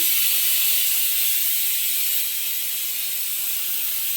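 Steam hisses loudly and steadily from chickpeas boiling in a pot on a home stove, a close, continuous rushing sound that eases slightly toward the end.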